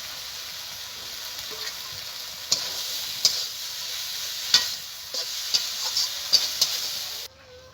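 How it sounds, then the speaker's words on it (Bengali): Fried prawns and taro stolons sizzle steadily in a pan, a bright continuous hiss broken by several sharp clicks of stirring, before the sound cuts off near the end. "ভাজা চিংড়িটা দিয়ে দেবো।"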